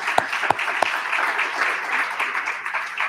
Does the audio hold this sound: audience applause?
yes